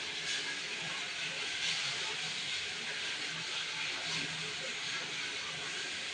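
Prawn heads fry in hot oil, sizzling with a steady, close hiss and crackle that runs throughout without pause.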